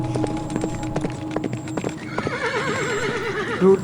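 Horse hooves clip-clop steadily at close range as a sound effect in a Bengali horror audio drama, ending with a horse's neigh near the close.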